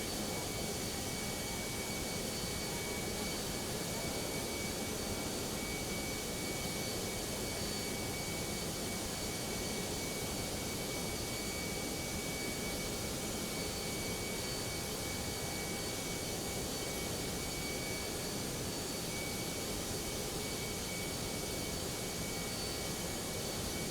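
Jet airliner engines in the X-Plane 11 flight simulator hold a constant loud whine and roar during a climb toward cruise altitude, unbroken for the whole stretch with no voices.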